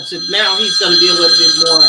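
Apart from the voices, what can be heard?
phone alarm ringing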